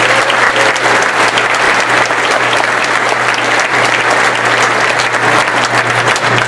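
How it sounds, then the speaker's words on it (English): Sustained audience applause at a high school graduation ceremony, a dense, steady wash of many hands clapping at once, loud and continuous throughout with no speech breaking through. "Let's give it a round of applause."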